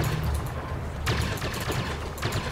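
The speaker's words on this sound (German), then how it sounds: "Irgendjemand schießt." Gunfire in the Star Wars Battlefront video game, with a continuous rattle of shots under a rumbling background and sharper bursts near the middle and end.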